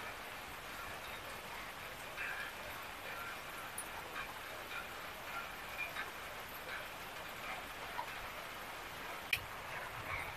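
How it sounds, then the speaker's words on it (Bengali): Steady rain falls outdoors after plants were watered, a continuous soft hiss with scattered drop ticks, moderately distant and without talk. "গাছগুলো নিয়ে পানি দিলাম, আর ভিজে বৃষ্টি শুরু হয়ে গেল।"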